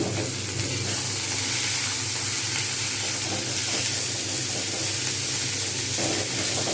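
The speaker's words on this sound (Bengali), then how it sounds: "এবারে চিচিঙ্গেগুলো দিয়ে দেবো দিয়ে এবং এতে লবণ দিয়ে দেবো তাহলে নরম হয়ে যাবে এবং সুন্দরভাবে ভাজা হয়ে যাবে" Snake gourd (chichinga) fries with salt in a pan, giving a loud, steady, close sizzle with a constant hiss that runs unbroken throughout with no talking.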